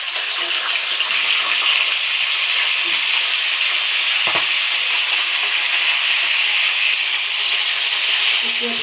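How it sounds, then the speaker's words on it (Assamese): Arhar dropped into hot oil in a kadai sizzles loudly and steadily, a dense continuous frying hiss up close with a brief stir partway through. "অৰহিখিনি দি দিছোঁ তেলত"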